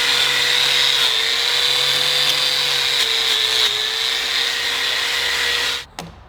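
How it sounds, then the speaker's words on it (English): A bench grinder fitted with a wire wheel whirs in a loud, sustained high-pitched whine as it scrubs surface rust off brake parts, its pitch dipping slightly under load before spinning down abruptly at the end. "quick run over with the old wire wheel on the grinder"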